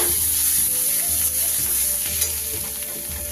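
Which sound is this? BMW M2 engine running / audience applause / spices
spices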